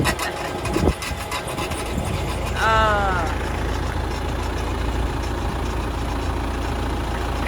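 An old farm engine idles with a rattly, steady low throb and a brief squeal partway through, running continuously at close range.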